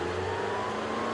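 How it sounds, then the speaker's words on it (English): A McLaren supercar's engine hums steadily at moderate volume as it downshifts on track, a smooth continuous drone with no distinct blip and no voices. "So I'm able to downshift even by pushing this pedal."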